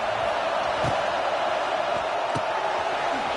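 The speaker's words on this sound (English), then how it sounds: "This crowd bringing the energy and noise early." Steady crowd roar fills a stadium in an NCAA football video game, a continuous dense wash of noise with no clear breaks.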